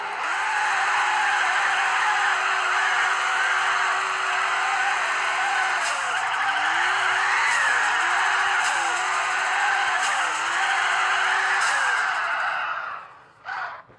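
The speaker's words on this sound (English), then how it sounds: "good thing I can drift." Virtual car in Real Drift Car Racing drifts with a steady loud engine whine and long tire screech, sustained and unbroken, fading out abruptly near the end.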